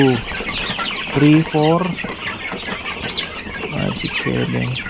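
Chickens and a crowd of new chicks cluck and peep close by, with repeated hen clucks over continuous high chick chirping.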